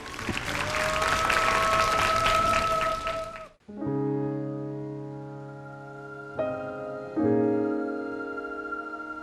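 An audience at a Macau inter-school singing contest final applauds to welcome a singer, with dense clapping for about three and a half seconds before it breaks off and sustained music begins.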